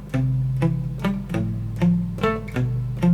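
Palm-muted electric guitar strings giving a percussive chug: about seven short, damped strums in a steady rhythm, close and clear with no talking.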